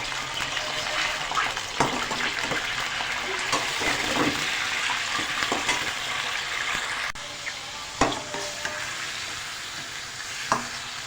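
Chicken fries in garlic ginger paste in a pot, giving a steady close sizzle with occasional spoon scrapes and clinks as it is stirred.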